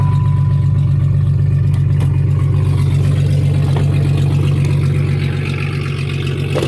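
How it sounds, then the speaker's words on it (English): Straight-piped exhaust on a 1994 Jeep Grand Cherokee Laredo 4.0 inline-six gives a loud, steady, deep idle with a throbbing rumble. It holds close and continuous throughout, with no talking. "we keep our shit straight piped around here, so it's gonna be loud"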